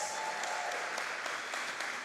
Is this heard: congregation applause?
yes